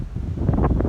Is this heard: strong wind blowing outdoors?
yes